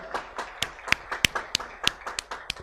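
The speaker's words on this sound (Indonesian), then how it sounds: "beri tepuk tangan yang meriah bagi Tuhan kita" A church congregation claps in an even rhythmic beat, sharp distinct claps roughly three per second, some louder accents, with a faint musical or vocal bed underneath.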